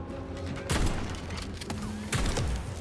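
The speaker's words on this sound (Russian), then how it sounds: "Дробовик хорош, но медленный." Two heavy, booming shotgun blasts from the video game Atomic Heart, spaced well apart, each with a sharp thump and a short rumbling tail over quiet background game sound.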